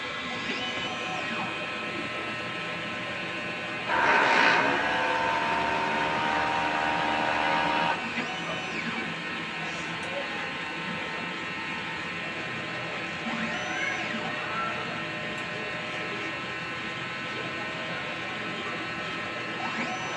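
A printer runs a print head cleaning cycle, a steady mechanical hum with a louder, denser burst of activity partway through before settling back to a constant drone.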